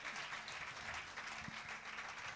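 A church congregation applauding at a fasting and prayer service, a steady dense wash of clapping from many hands throughout, with no voices standing out.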